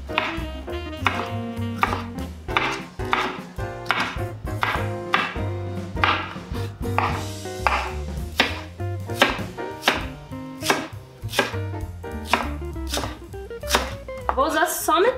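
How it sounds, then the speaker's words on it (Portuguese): Red bell pepper chopped finely with a knife on a board, a steady run of quick, close, crisp blade taps with brief pauses, alone without talk. "Fica bem picadinho."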